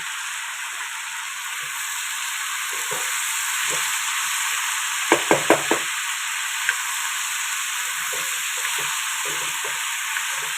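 Crab curry frying in a pan, a soft continuous sizzle with a short burst of utensil scrapes and taps partway through, no talking.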